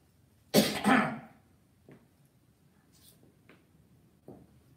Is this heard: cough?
yes